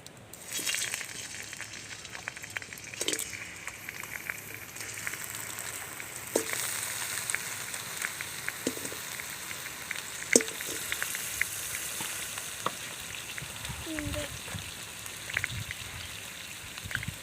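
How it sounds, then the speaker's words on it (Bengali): Crabs, sea crabs by the look of the dish, sizzle in hot oil in a wok, a steady soft crackle with scattered pops and clinks of stirring, fairly quiet and without voices. "কাঁকড়াগুলো তুলে দিচ্ছি ভাজার জন্য"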